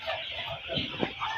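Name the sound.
chickens clucking on a poultry farm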